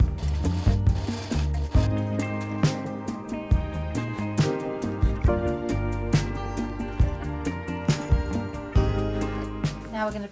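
A sewing machine stitching French side and shoulder seams on a blouse, running in quick mechanical bursts with short pauses between runs, close and clear, with music or a faint voice underneath.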